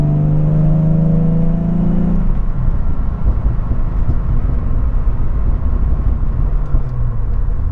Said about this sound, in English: Now my exhaust has some nice little pops and bangs to it.